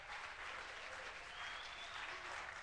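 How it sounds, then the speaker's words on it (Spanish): Congregation applauding at a church congress service, dense steady clapping from a large crowd with no gaps, continuous and fairly distant. "Un aplauso al Señor."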